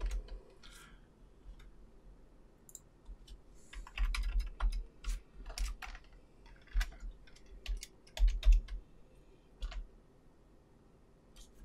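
A computer keyboard is typed on in irregular bursts of crisp clicks, some fast runs and some single taps, close and fairly loud against a quiet background, with no talking.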